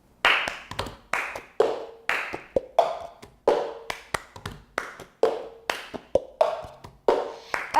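A rhythm with a cup tapped and slid on a surface and hands clapping in a crisp, repeating pattern, close and clear with no voice.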